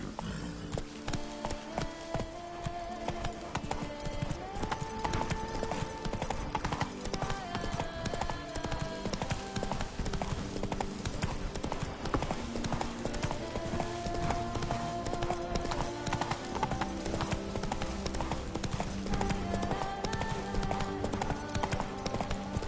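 Roach, a horse in The Witcher 3 on PS5, trots with a steady, rapid clip-clop of hooves throughout, close and continuous under game music and ambience.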